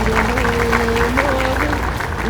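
An audience applauding at a Women's Day gathering, with dense clapping that continues throughout, loud and close, while a voice speaks over it.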